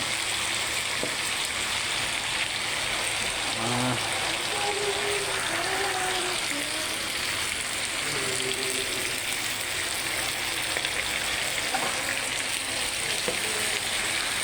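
Fish sizzles and fries steadily in a hot pan, a dense continuous crackle with scattered louder pops throughout, close and alone.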